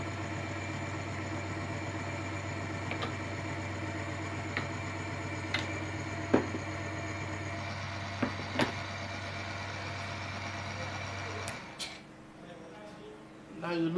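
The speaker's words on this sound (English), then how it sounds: "And you still have your engine. And it's running." A car engine idles at a steady, even hum during an oil-loss friction test with the sump drained, accompanied by faint intermittent ticks before the sound cuts out near the end.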